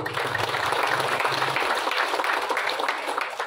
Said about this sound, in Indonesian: mari kita beri tekan aplaus untuk Isno